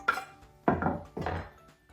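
Three separate knife chops through onions on a cutting board, each a sharp close thud followed by a short crunch, spaced evenly about half a second apart in a quiet kitchen.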